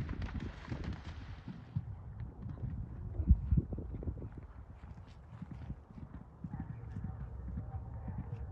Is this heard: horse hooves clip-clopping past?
yes